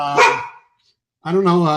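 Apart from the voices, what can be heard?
dog barking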